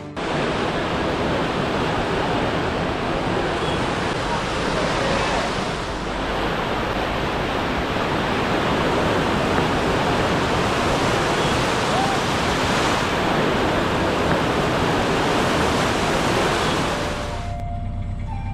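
Horseshoe Falls near Llangollen, a broad continuous roar of rushing water that stays loud and even for the whole stretch before cutting off near the end.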